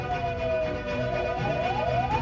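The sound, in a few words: siren of fire engines at a boarding school fire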